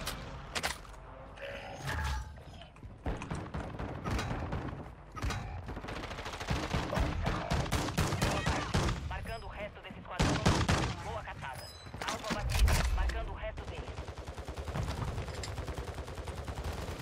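Rapid bursts of automatic gunfire and single shots crack through a Call of Duty Warzone 2.0 match, loud and close, with mechanical clicks and thuds between volleys and players talking over the shooting.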